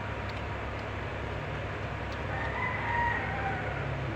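A rooster crows at a distance, faint and partly buried under steady low background rumble, with one drawn-out call rising near the end and no talking.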